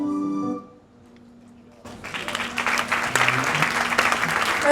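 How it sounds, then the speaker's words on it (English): Audience applause at a children's award ceremony, breaking out after a sustained musical tone fades and a short quiet, then building into steady, fairly loud clapping from a crowd. "A round of applause, please."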